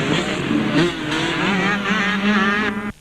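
A Husqvarna 125 enduro motorcycle at a two-day enduro event, its high-pitched two-stroke engine revving hard and climbing through the gears close by, loud and continuous before cutting off abruptly at the end.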